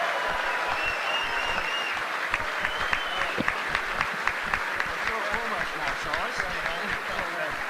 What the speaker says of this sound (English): show him by applause